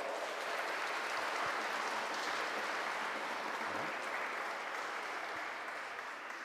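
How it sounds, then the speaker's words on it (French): Sustained applause from a large congregation at a Sunday Mass, dense and steady throughout, fading slightly toward the end. "On les applaudit très fort."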